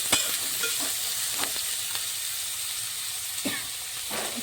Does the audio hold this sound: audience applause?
no